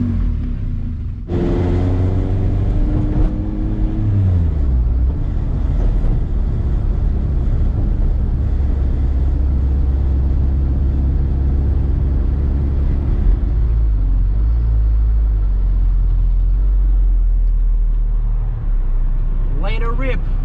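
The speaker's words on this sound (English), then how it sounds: "I'm gonna warm up this car, clean up, and we're gonna go for a drive." Kawasaki KRX side-by-side engine idling as it warms up after a K20 billet shifter install, a steady deep rumble close by that holds for the whole stretch, with brief talk near the start.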